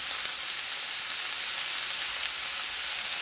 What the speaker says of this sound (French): mélanger le tout pour que le calmar ait le temps de dorer un petit peu de chaque côté